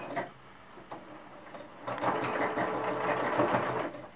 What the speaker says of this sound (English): you want to sew all the way around right up to the back